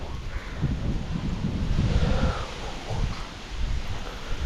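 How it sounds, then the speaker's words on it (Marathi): Outdoor wind gusts buffet the microphone with a low, rumbling roar that swells and eases over a few seconds, with a faint rustle on top and no voices. "हवा बिवा वारा बघा कसा सुट सुटला एकदम मस्त"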